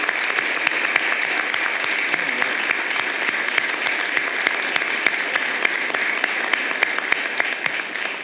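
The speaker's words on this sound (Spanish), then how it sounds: "para quien pido un fuerte aplauso" Attendees at an education authorities' swearing-in ceremony applaud steadily, a dense crowd clapping with distinct individual claps popping out at an even level throughout.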